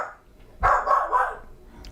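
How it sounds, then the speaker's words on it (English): Dogs barking at a house, a short burst of several loud, close barks in quick succession after a quiet start, with no talking over them. "forgive me on the dogs"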